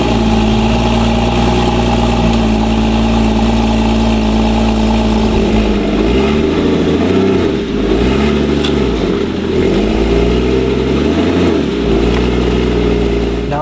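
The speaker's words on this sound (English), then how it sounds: "I'm gonna back the car up and Tim's gonna have to guide this wheel." A wrecked Porsche Cayman GTS idles with a steady mid-pitched engine drone, then the note dips and swells in a series of throttle changes as the car backs up, loud and close with no talk.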